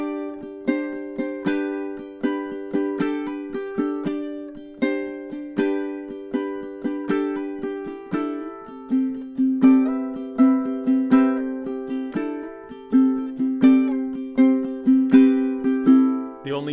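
Ukulele strumming etude passage played up close, steady chord strums in an even rhythm with the chords changing partway through, bright and clear with no talking.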